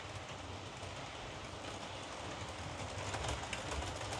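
A ROCO BR186 electric model locomotive runs steadily around a looped track, giving a continuous close whirring rumble with faint rail clatter and no talk.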